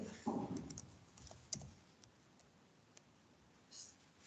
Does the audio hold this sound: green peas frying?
no